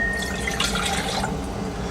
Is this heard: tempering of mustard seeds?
no